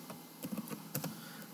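A computer keyboard clatters with a short run of quick, light keystrokes as an Excel spreadsheet formula is typed in. The clicks are close but soft, and nobody speaks.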